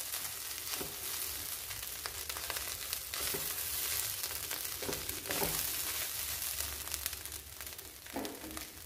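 Vegetable thoran fries in a pan with a steady, fairly soft sizzle while a spoon stirs through it, giving several scraping strokes and light clinks.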